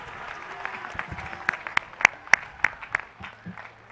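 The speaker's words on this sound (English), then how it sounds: "Let's give them another round of applause." A commencement ceremony audience applauds the concert choir, scattered claps building into a brief round of clapping, fairly close and moderately loud.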